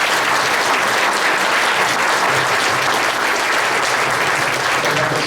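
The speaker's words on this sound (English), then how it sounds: "I'd like to have a round of applause for all three candidates" A meet-the-candidates audience gives a round of applause for three candidates, a loud, sustained and uniform crowd clapping with no voices over it.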